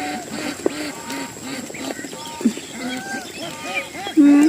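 Hungry ducks crowding around a small four-place feeding trough on a farm, with nearby quacks and scattered calls over a busy background and a louder burst at the end.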